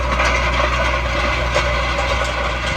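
A farm tractor drives steadily while rolling land after oat planting, its engine holding a constant, close, droning rumble with no pauses or voices.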